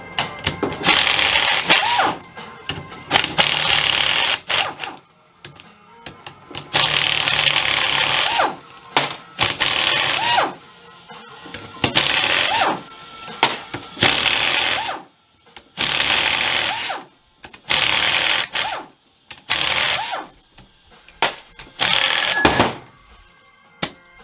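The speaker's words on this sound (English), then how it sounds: "Got to get a socket and an air hose." An air impact wrench with a socket removing old bolts while swapping in 4.88 differential gears, loud close bursts of rattling hammering repeated in several separate runs with short pauses between.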